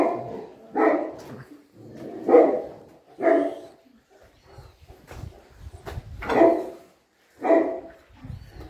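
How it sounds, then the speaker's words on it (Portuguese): A large Saint Bernard barks on a farm, six or seven loud, close woofs spaced about a second apart, each deep and full, with short quiet gaps between them and no talk. "Que raça que é aquele cachorro lá?"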